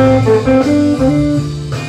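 Melodic guitar notes played in a steady, even rhythm, with sustained tones stepping through a simple line, close and fairly loud.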